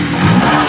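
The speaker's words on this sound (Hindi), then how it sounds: "देखिए फाइनल एक सेल्फ दबाए बाइक हमारा फाइनल स्टार्ट होगा" Yamaha FZ-S V3/V4 motorcycle engine firing up on the self starter, a loud, close mid-pitched engine roar that swells briefly and holds steady.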